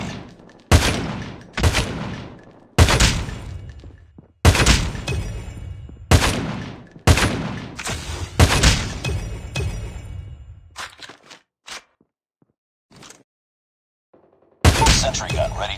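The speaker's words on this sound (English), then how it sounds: "Sentry gun deployed." Automatic sentry gun in Call of Duty Mobile firing on the Crossfire map, loud repeated bursts of rapid gunfire that each start sharply and trail off. A longer run of shots breaks into scattered single reports, then one last burst.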